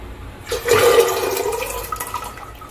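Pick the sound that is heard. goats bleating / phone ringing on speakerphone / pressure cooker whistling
pressure cooker whistling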